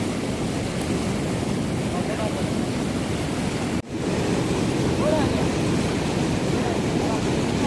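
River water rushes forcefully past the edges of a check dam on the Kaveri, a loud, dense roar of flowing water with wind buffeting the microphone, briefly cut out midway.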